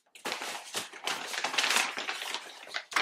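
Paper wrapping from a parcel crackles and rustles as it is pulled open, a run of crisp crinkling bursts close by with brief pauses between them.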